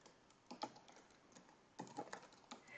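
Typing on a computer keyboard, a few short bursts of soft clicking keystrokes separated by pauses, close and quiet with no speech.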